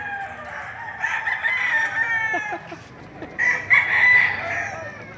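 Rooster crowing at a gamecock market in Padre Garcia, Batangas, two long strained crows close by over a busy outdoor background murmur.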